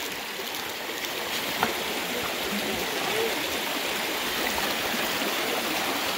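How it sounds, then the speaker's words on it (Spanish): A river stream flows with a continuous broad rushing and burbling of water, steady and close, with no other clear sounds. "Se oye bonito el río, oiga cómo se oye."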